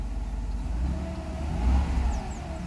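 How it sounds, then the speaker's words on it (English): A cold Mercedes engine still in warm-up is given throttle, a low rumbling idle swelling into a couple of modest revs, heard fairly close and moderately loud with no talk over it. "Well, let me accelerate a couple of times actually."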